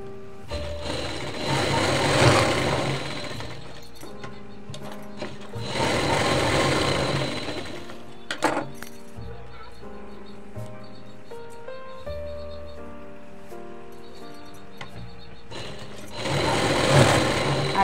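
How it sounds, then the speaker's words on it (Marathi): A sewing machine stitches tucks on the back piece of a katori blouse in loud bursts of rapid whirring. Quieter pauses fall between the runs, and faint handling noises fill the gaps. "आता आपल्याला पाठीच्या भागाची टिप मारायची, टक्स मारून घ्यायच्या पहिल्या"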